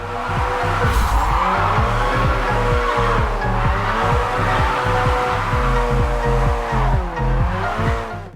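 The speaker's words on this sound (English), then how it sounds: "great engine sounds and very convincing tire screeching" Loud, close engine roar from a car in a Japanese racing video game, with the revs rising and falling through gear changes and continuous tire screeching as the car slides through corners.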